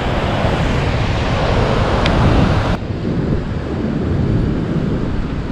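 Rough sea waves off the coast of Crete, a steady loud roar of surf and wind buffeting the microphone, with no voices.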